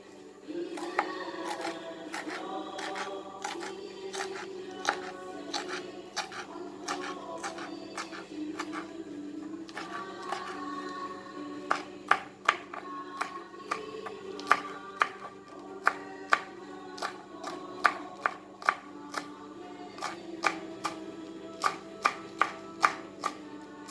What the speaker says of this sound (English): So you can finely chop the chilies.